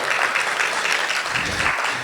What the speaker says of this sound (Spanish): Por favor, un fuerte aplauso para el licenciado Guillermo Camacho Higuera.